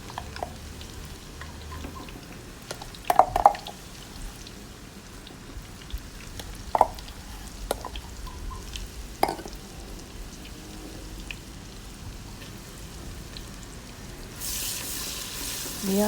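Spices for beef curry frying in a pan while being stirred, a low steady sizzle with scattered clatters and scrapes of the stirring utensil, growing hissier toward the end.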